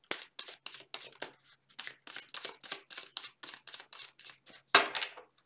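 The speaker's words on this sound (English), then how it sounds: "Shuffling." Haunted House Tarot cards are shuffled in a steady run of quick riffling bursts, close and crisp, ending in a sharper card snap; no talking over them.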